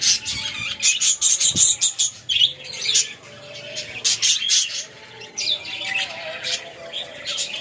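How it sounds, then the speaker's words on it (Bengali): Budgerigars chirp in a colony cage, small flocks of three pairs sharing each compartment, giving dense, overlapping high twittering bursts that rise and fall through the whole stretch, close by and fairly loud. "প্রত্যেকটা খোপে তিন জোড়া করে বদ্রি পাখির ছোট ছোট কলোনি করেছি।"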